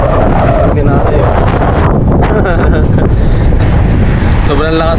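Strong Typhoon Gaemi wind buffets the microphone outdoors in Taiwan, a loud, constant roar and rumble with someone speaking over it.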